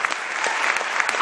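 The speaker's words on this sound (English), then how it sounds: "Can we please put our hands together for the Speaker of the Children's Parliament" An audience claps loudly and steadily for the Speaker of the Children's Parliament at a Save the Children centenary celebration, a short dense burst of applause with a few voices mixed in.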